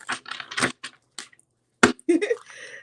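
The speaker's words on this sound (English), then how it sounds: "the shuffling has stopped" A deck of cards is shuffled close up in short, crisp riffling bursts separated by brief pauses.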